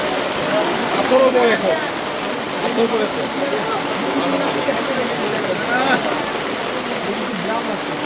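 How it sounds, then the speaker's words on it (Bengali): Heavy rain falling in Taif, Saudi Arabia, a close, steady wash of rain on surfaces with splashing, while a voice speaks over it. "ভারী বৃষ্টি দেখেন।"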